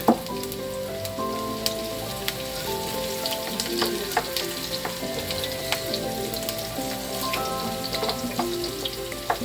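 Onion and garlic sauté in a pan of hot oil with a steady crackling sizzle throughout, dotted with small pops and the occasional stir.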